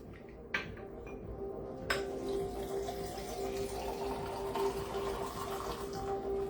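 A drink is poured over ice cubes in a glass, giving a steady soft liquid rush with a couple of early clinks, heard close and alone without talk.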